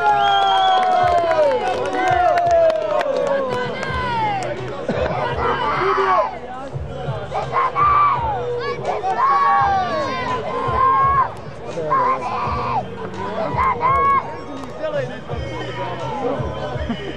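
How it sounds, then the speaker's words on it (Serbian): Bullfight crowd at an outdoor korida in Toplice, Živinice, cheering, shouting and clapping loudly and continuously, with lively voices and whistles rising over steady crowd babble throughout. "Još jednom publika nagradimo i jednim velikim aplauzom."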